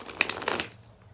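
Oracle cards being shuffled by hand: a brisk run of papery riffles and slaps over about a second, close and fairly quiet, fading out at the end.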